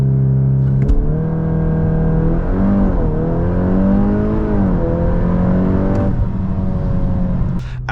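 A Golf R 8.5 Black Edition accelerates hard from a standstill to 280 km/h, its engine climbing loudly in pitch through a string of gearshifts, each marked by a brief dip before the revs rise again, close and continuous.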